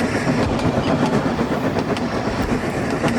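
A freight train at night rolls steadily past with a continuous rumbling drone and faint rhythmic clickety-clack of wheels on rails, loud and sustained without pause.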